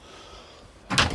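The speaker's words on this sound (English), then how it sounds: "Opening the door again." A fridge freezer door opens in a 2023 Swift Kon-Tiki 784 motorhome, giving a short, close burst of noise near the end after a quiet stretch.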